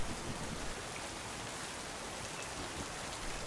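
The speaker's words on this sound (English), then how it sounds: "Finally, some rain." Steady rain falls outside an apartment window, a dense, even hiss of drops that holds at a constant level throughout with no voices.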